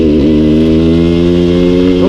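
A Suzuki 125 TSR trail bike climbing an off-road mountain pass track, its engine droning loud and close with a brief rev dip near the start, then holding steady power on low-rev torque.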